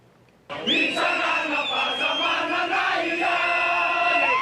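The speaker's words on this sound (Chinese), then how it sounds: "示威民众喊结束独裁" A large crowd of protesters in a Madagascar city square shouts in unison, loud rhythmic chanting voices starting abruptly and sustained throughout.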